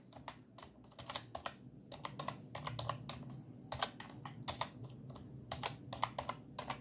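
Quick, irregular bursts of keystrokes clatter on a computer keyboard while HTML code is typed, close and fairly quiet, with short pauses between runs of clicks.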